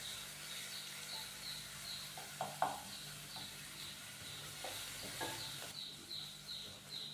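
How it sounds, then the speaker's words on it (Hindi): Onions frying lightly in a pan while making bread samosa filling, a soft, steady sizzle with a few brief stirring clicks and scrapes, fairly quiet and close, no talking. "प्याज डालने के बाद हम प्याज को 1 से 2 मिनट के लिए हल्का सा फ्राई करेंगे"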